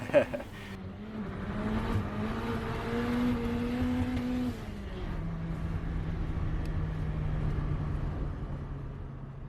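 Nissan Sentra with an SR20DET engine accelerating, a steady rising engine drone that eases off midway, heard from inside at moderate level.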